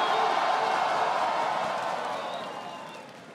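Loud, dense crowd noise from the audience at a Brazilian rap battle grand final, cheering and clapping for JP, Jaya and Dudu. The roar holds steady, then slowly fades toward the end.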